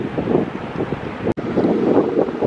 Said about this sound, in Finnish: Ei lennä, nyt tuulee.